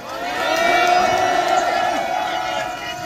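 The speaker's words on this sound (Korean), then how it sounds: "큰 박수로 맞아주시기 바랍니다." A crowd at a university rally in Seoul cheers and applauds to welcome a speaker, a sustained wash of clapping and shouts that swells and holds steady, fairly loud and close.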